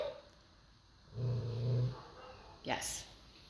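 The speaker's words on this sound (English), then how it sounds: "Dog barked" A dog gives a short, low growling bark in a quiet room, followed moments later by a brief higher yip; the sounds are isolated and fairly close.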